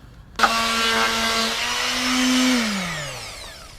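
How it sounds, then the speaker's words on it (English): A power sander with 100-grit sandpaper on wooden bed frames from a 2011 Heartland Cyclone toy hauler switches on abruptly and whines steadily at close range, the pitch dipping as it loads up and winds down. "Alright, so I'm starting with a coarse sandpaper, 100 grit."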